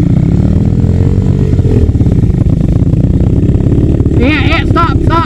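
Engine of a three-wheeler running in first gear, a steady loud mid-pitched drone that goes on without a break, with voices talking over it and a brief higher whine near the end.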